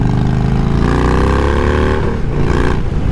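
A 2022 Indian Super Chief Limited motorcycle engine revs loud and close, a steady throaty roar that dips briefly twice near the end.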